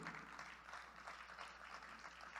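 A church congregation applauds together in sustained, steady clapping at moderate distance, filling the space without a break and with no speech over it.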